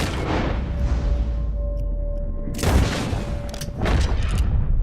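Loud, close rifle shot fired while hunting an animal in Red Dead Redemption 2, a sharp boom with a rolling tail, followed by a second heavy blast, over a steady game ambience.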